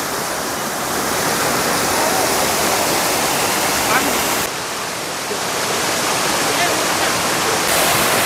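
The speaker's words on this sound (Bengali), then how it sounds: "এটা হলো ওয়াটারফলের উপর দিকটা। এখান দিয়ে জলটা আসছে।" Monsoon water rushes over the top of a jungle waterfall in Belpahari, a loud, close, steady roar that fills the whole clip, with a voice faintly under it.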